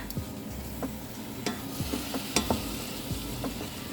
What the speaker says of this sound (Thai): ทุกคนก็เอาเห็ดโมรี่ของเราลงไปผัดได้เลยค่ะ ผัดให้เห็ดสุกนะคะ